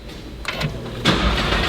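Audi R8 V10 Performance engine cranking and firing up close by, a short starter whine followed by a loud burst as the V10 catches and settles into a rumbling idle; no one speaks.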